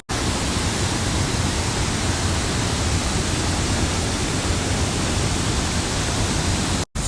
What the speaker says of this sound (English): It's an amazing, amazing waterfall.